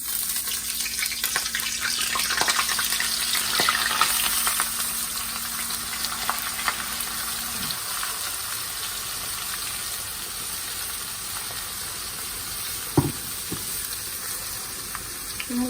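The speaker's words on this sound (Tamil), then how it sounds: "இந்த பச்சை வாசனை போகிற வரைக்கும் நல்லா வதக்கிடலாம்" Ground paste of small onions, big onion, ginger and garlic sautéing in a pan for chicken curry, a continuous bright sizzle with scattered stirring clicks and a sharp knock near the end, no speech.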